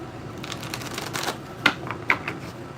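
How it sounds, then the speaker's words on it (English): Tarot cards shuffled during a live reading: a soft riffling rustle with a few sharper card snaps near the end, faint and close, with no talking. "you wouldn't see all the shuffling."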